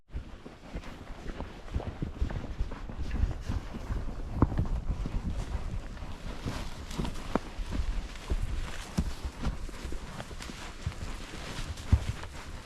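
Horses walking on a mountain trail in Utah during a lion hunt produce a steady, fairly close clip-clop of hooves, irregular as several animals move together, with wind noise in the background.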